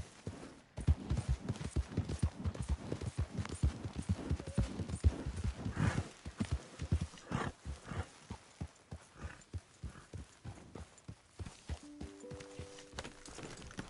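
Steady clip-clop of horse hooves walking at an even pace in the video game Red Dead Redemption 2, close and clear, with a brief faint snort near the end.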